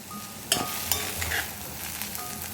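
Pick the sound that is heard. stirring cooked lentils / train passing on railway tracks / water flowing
stirring cooked lentils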